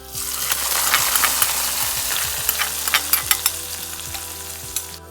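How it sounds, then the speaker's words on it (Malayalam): Sizzling mustard seed tempering in coconut oil is poured into a Russell's smooth back herring fish curry, giving a loud continuous hiss and fry with scattered sharp crackles and pops throughout, heard close with no talking. "കടുക് താളിച്ച് ഒഴിച്ചു കൊടുക്കുക."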